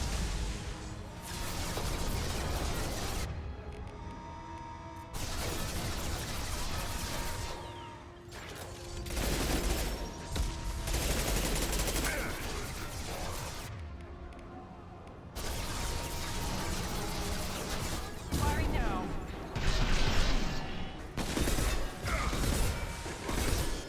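Sustained gunfire from the Mass Effect video game on Insanity difficulty, a mech fight: dense, loud bursts of shots and mechanical clatter running almost continuously, with only brief drops in intensity.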